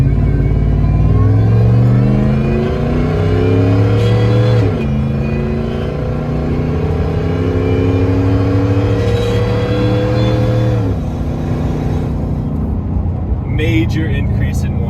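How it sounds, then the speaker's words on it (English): Supercharged Ford Raptor with a whine tube mod making a second gear pull, loud engine climbing in pitch through two upshifts with a high supercharger whine riding on top, close and continuous. "Start off with a little second gear pull."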